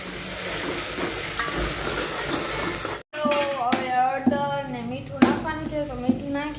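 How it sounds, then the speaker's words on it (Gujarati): Onion and tomatoes fry in a hot pan of tempering oil in a home kitchen, giving a steady loud sizzle for about three seconds before a voice talks over a fainter hiss. "અને હવે ડુંગળી નાખવાની છે અને હવે ટમેટા નાખી દીધા અને હવે થોડી વાર કરવા દેવાની"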